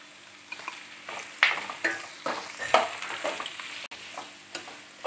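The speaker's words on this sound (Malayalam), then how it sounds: "സവാളയൊക്കെ നല്ല വഴന്ന് വരണം." Sliced onions sauté in a pan for a Kerala-style chicken curry, a soft steady sizzle broken by repeated scraping stirs of a spoon at close range, with no talking.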